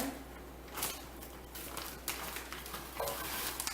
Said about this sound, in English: start to just kind of saute them a little bit